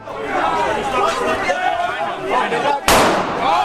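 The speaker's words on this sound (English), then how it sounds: "That sounds like a fucking gunshot" A single sharp, loud bang cuts through a noisy crowd of shouting voices, the chatter continuing around it.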